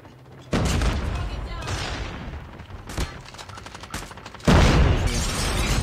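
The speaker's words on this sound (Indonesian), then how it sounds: "Jarang sekali pro player pakai shotgun di map firing range ini." Shotgun fire in a Call of Duty firing range match, loud heavy blasts breaking in abruptly, a sharp shot mid-clip and another big burst near the end, with dense gunfire texture between.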